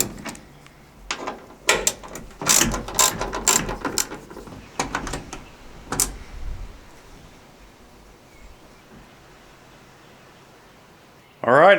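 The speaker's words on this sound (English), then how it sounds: "just two little T25 screws on this side over here, so we'll just pull those out" Two small T25 screws being backed out of a Ram 2500/3500 pickup's tail light, a run of sharp metallic ratcheting clicks up close, fading to quiet handling noise, with someone talking over it.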